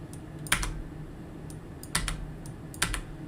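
Keys clack on a faulty computer keyboard that presses buttons by accident, a few sparse, close key taps scattered over a low background hum with no speech.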